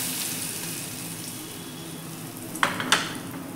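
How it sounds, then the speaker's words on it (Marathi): Hot cumin and asafoetida tempering poured over garlic chutney gives a steady, close sizzling hiss, with two sharp clinks near the end. "ही फोडणी आपल्याला या चटणीवरती घालून घ्यायची आहे"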